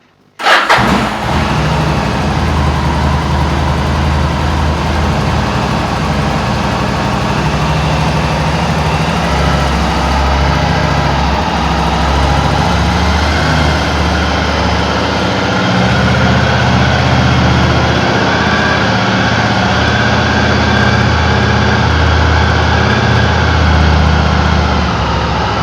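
A Yamaha XVS 1100 Drag Star motorcycle engine cranks and fires, then settles into a steady, loud, rumbling idle that continues unbroken at close range.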